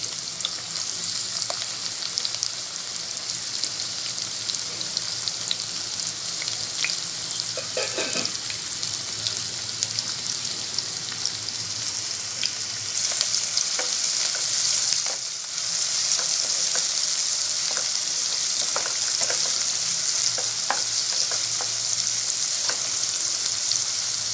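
Onions and green chilies sizzle in hot oil for a prawn curry, a loud continuous frying hiss with occasional stirring scrapes, steady throughout and free of talk.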